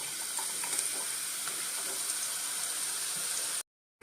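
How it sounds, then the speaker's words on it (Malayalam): Masala peanuts sizzle and crackle steadily in very hot oil, a dense, even frying hiss close by that runs alone for several seconds and then cuts off abruptly. "അപ്പം ശകലം കൂടെ തീ കൂട്ടി വെച്ച് നല്ല ചൂടായ എണ്ണയിലോട്ട് വേണം ഇടാൻ"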